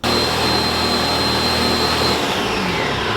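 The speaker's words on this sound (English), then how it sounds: "you want to blend this on high, but you don't want to blend it for too long" A blender runs on high speed, processing oats for homemade oat milk, a loud, close, continuous motor whir whose pitch drops partway through as the load changes.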